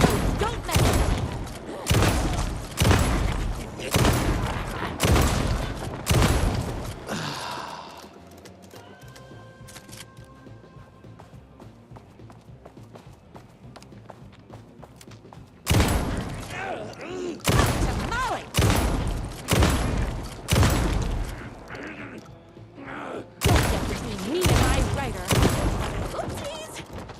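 Rapid bursts of gunfire in Alan Wake 2 on PS5, several loud volleys of closely spaced shots separated by a quieter stretch of low ambient game sound and faint mechanical clicks.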